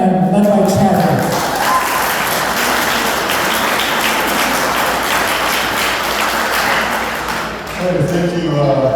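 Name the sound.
audience applause for the Kinsmen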